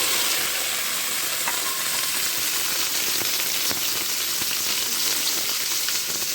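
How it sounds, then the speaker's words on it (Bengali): Soya chunks fry in hot oil in a wok, a loud, continuous crackling sizzle held steady from start to finish, close to the microphone with no voices. "সয়াবিন বড়িগুলো দিয়ে দিলাম।"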